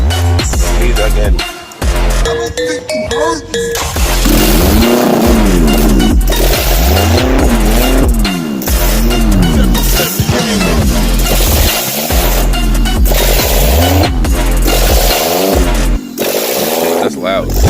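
Naturally aspirated Acura RSX revving hard in repeated loud bursts with popping exhaust spitting flames, close by, with people talking and shouting over it.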